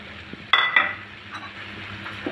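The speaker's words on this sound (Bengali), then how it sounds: "ভালো করে মিশে নিচ্ছি" Ground red spinach is stirred into spices in a pan, with a couple of sharp spoon clinks and scrapes against the metal over a faint sizzle, close and brief with no talking.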